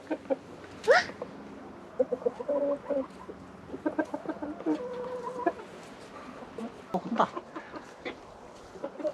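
Chickens cluck repeatedly in short, uneven bursts nearby, with scattered higher squawks and a busy farmyard feel.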